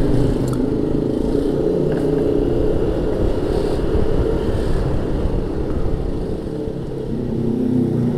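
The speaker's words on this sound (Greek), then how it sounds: "το ζωρίσουμε το μηχανάκι τώρα" A 2022 Yamaha Nmax 125 motor scooter engine buzzes and revs continuously while accelerating downhill, heard close by with wind rushing past, pitch easing slightly near the end.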